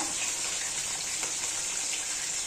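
Steady, dense sizzling and crackling of food frying in hot oil with oil spattering, loud and close, with a constant hiss and no voices.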